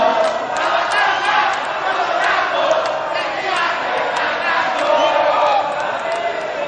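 Supporters of both gubernatorial candidate pairs in a Central Java election debate hall applaud and cheer, a steady loud roar of clapping and shouts filling the room with no gaps.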